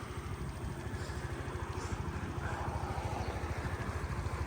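A Suzuki Address V50 scooter engine idles steadily nearby with an even, low putter that holds throughout.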